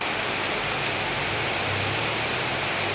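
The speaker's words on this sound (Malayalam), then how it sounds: "ഇപ്പോൾ കണ്ടോ നല്ല മഴയാണ്" Heavy rain pours down in a dense, even hiss that stays constant from start to finish.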